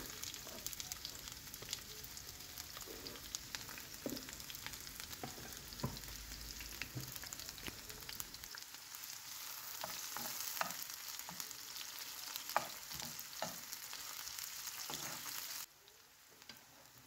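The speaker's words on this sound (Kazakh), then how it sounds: "Енді майға алдымен пиязымызды қорамыз." Onions frying in cooking oil in a pan ahead of bell pepper and mushrooms for a potato dish, with a steady close sizzle and frying crackle running throughout, occasional stirring clicks, and no talk.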